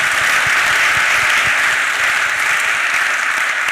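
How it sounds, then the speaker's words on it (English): Steady, dense applause fills a conference hall after a panel session, continuous and loud from start to finish, with no talking over it. "Quick round of applause for everyone."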